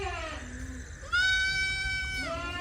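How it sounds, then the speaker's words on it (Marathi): Young Beetal goat kids, about fifteen days to a month old, bleat close by, a few drawn-out cries overlapping, one rising loud and long in the middle. "ही आहेत शेळ्यांचे बिटल बोकडाची पिल्लं"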